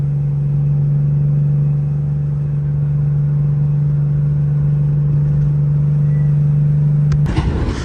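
A Mercedes W210 sedan drives along with a steady, droning engine hum and road rumble close to the microphone, ending in a brief bump or clatter.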